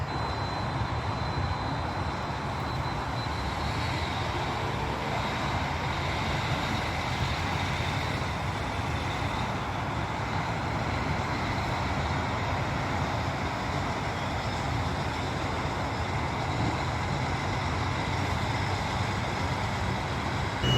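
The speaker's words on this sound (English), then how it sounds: "the delivery's arrived with its truck as well, and it's moving" A delivery truck moves across a theme park construction site, its engine giving a steady, continuous rumble at moderate distance for the whole stretch, alone with no talk.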